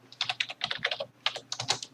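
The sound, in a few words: typing on a computer keyboard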